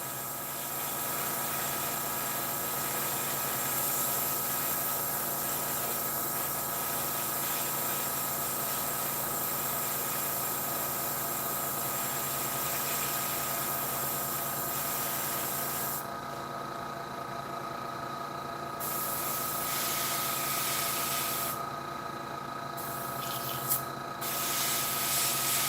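An airbrush sprays paint onto miniatures in a steady, faint, continuous hiss that runs throughout, with short gaps where the spray stops and restarts near the end.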